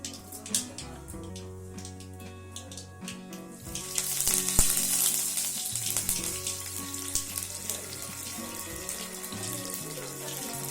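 Mustard seeds, dried chillies and curry leaves hit hot oil for beetroot poriyal, a sudden loud sizzle that bursts in partway through and settles into steady crackling over soft background music.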